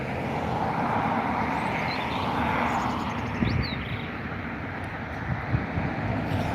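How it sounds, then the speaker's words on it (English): A distant Aer Lingus A321XLR airliner pushes back at Dublin Airport, heard as a broad steady jet roar mixed with wind rumble, with a few faint clicks near the end. "another transatlantic flight pushing back over there, right over, let's see, there is the Aer Lingus A321 XLR XL EI XLT heading over to Minneapolis"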